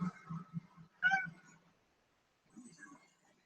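A cat meows twice close by, short and clear, with a quieter third mew after a pause.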